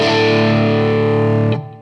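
Distorted electric guitar preset through a personal cabinet impulse response from a touring cabinet, a single loud sustained chord ringing for about one and a half seconds before being choked off.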